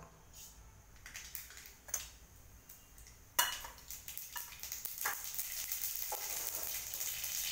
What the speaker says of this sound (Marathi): मोहरी चांगली तडतड झाली.